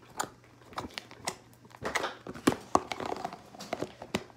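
Slime is squished and worked by hand, giving a series of sharp, close clicking pops at irregular intervals, some in quick clusters.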